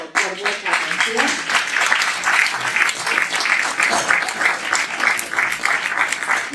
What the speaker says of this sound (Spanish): Un aplauso por vuestra atención.